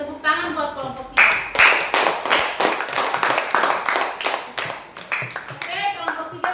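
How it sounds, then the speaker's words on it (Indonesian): Classmates clap for group 3 in a classroom, a quick run of sharp, close handclaps following a short stretch of talk, with a voice returning near the end. "Oke, tepuk tangan buat kelompok 3."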